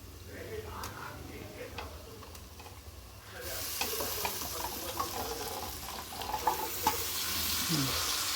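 Goat head mutton dropped into frying masala for curry, with a sudden jump into loud, steady sizzling and stirring scrapes that continue close up after a quieter stretch of low frying.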